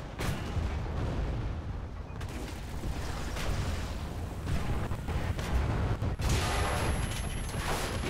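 Artillery fire in the tank game War Thunder around a Type 97 Chi-Ha tank, heavy continuous rumbling of shots and blasts with a few sharper cracks, loud and dense throughout, no voices.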